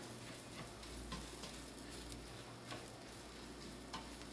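Rice fries gently in oil with garlic and cilantro, a faint, steady sizzle with soft occasional crackles and no talking.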